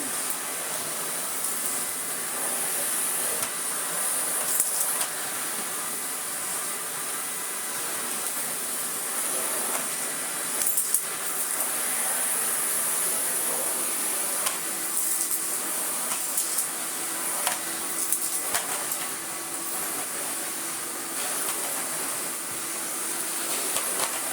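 A 1994 Miele S228i vacuum cleaner motor runs continuously with a loud, even whooshing roar and bright high whine, holding steady for the whole stretch with small fluctuations in airflow.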